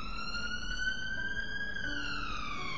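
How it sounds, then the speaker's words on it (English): A police car siren wails steadily on a London street at night, a distant, sustained tone that slowly rises in pitch over a low rumble of background noise. "without the screeching of the police cars going past"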